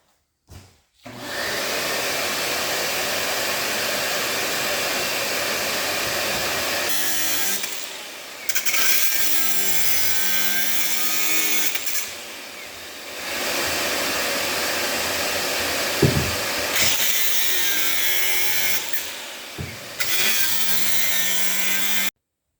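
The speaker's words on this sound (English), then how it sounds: "I'm just going to use this zip cut wheel. I'm going to run the vacuum cleaner" A steady, loud roar of a vacuum cleaner runs continuously under the harsh grinding whine of a zip cut wheel biting into metal, pausing briefly a few times.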